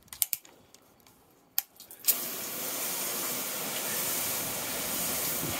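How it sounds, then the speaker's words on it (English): Pressure-sprayed water rinses a car windshield treated with glass sealant, a sudden steady hissing spray that starts after a few faint clicks and knocks and holds loud to the end. "So let's rinse it."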